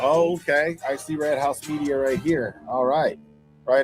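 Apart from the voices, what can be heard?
None of the usual background noises is heard.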